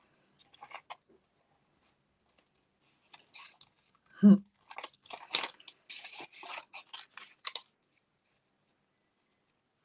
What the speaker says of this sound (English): I feel like the scissors have got to come out there, haven't they?